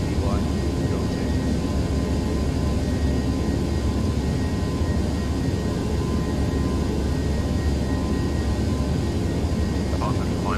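Airbus A319 jet engines at takeoff thrust, a loud, steady broadband roar holding constant throughout, with cockpit voices faintly beneath.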